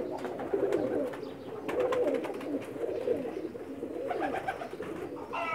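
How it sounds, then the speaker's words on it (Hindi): Pakistani pigeons coo and flutter nearby in a steady, busy chorus, with soft murmuring calls and occasional wing flaps throughout. "हम आपको उस्ताद सखी भट्टी चौधरी साहब के हम कबूतर आपको दिखाने जा रहे हैं।"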